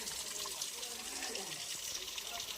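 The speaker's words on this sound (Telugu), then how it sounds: "ఈ గుట్ట లోపలి భాగం నుంచి అయితే వాటర్ అయితే వస్తూ ఉంటాయి చూడండి నిరంతరం వస్తూ ఉంటాయి" Water flowing continuously out from inside a rocky hill, a steady hissing gush that stays even throughout, with a voice talking over it.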